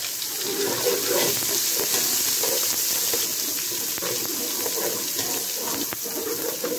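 Garlic paste sizzles in hot oil with browned ingredients while cooking whole masoor lentil pulao, a steady, crackling hiss that runs throughout at moderate level, without talk.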